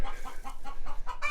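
Hens in a homestead chicken coop cluck in a quick series of short, close calls over about a second and a half.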